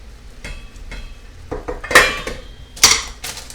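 A spoon stirs garlic and shrimp in a metal pot, making scraping and a few sharp clinks against the pot's side, close and fairly loud, with no speech.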